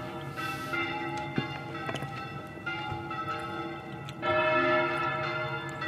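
Church bells ring out in a steady series of resonant strikes, fairly close and loud, growing fuller toward the end.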